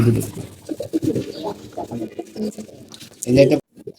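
Low pigeon coos sound close up in short bursts, with a person talking over them.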